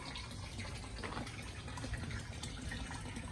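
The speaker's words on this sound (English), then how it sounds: "we are filling it up with water right now" Water pours steadily into a large tarpaulin biofloc fish tank, a continuous splashing, gurgling rush with no pauses, heard fairly close and alone without talk.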